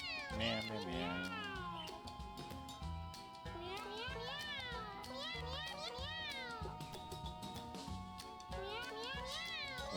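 Cats meow repeatedly in the video game Mewgenics, high wavering cries overlapping each other steadily with game music, mixed loud and continuous.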